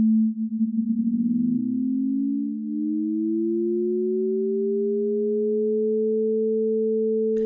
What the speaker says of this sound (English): let's go back to the dissonance of pure sine waves.